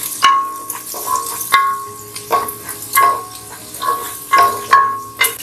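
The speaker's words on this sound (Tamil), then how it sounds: "நல்லா டார்க் ப்ரௌன் கலர் ஆகிற வரைக்கும் நம்ம ஆனியன் ஃப்ரை பண்ணிக்கலாம்" Chopped onion frying in a pan until dark brown for chicken kabsa, a steady close sizzle broken by regular scraping stir strokes about every second, with no talk.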